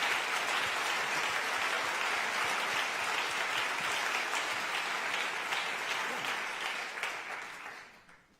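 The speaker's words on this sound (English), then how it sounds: "an extra special applause for my colleague Lara" An audience at the official opening of the European Forum Alpbach 2018 applauds, a sustained, dense wash of many hands clapping in a large hall that holds level for several seconds, then fades away near the end.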